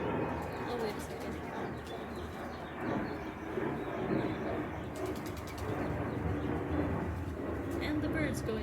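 Pigeons or doves cooing outdoors, repeated low coos over a steady bed of ambient noise with a jet rumbling overhead, while a person talks over the scene.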